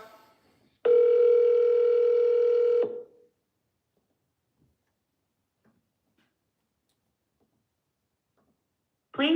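A telephone call gives one long steady ringback tone lasting about two seconds, followed by near silence with a few faint clicks while the line waits, then another tone begins at the very end.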